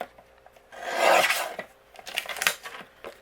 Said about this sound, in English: I'm going to trim a 1/4 inch off of this side.